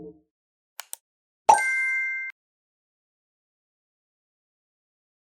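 A notification bell dings once with a clear ringing tone lasting under a second, preceded by two faint clicks and a soft pop, then silence.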